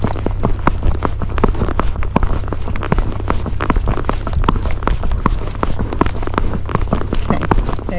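A Tennessee Walking Horse's hooves clip-clop on a road in a rapid, steady rhythm of sharp close strikes, carried over a constant low rumble of wind or road noise.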